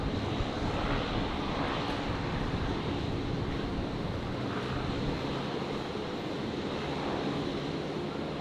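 An airliner takes off at Brisbane Airport with a broad, steady jet roar heard from a distance that stays constant throughout, with no talk in the clip.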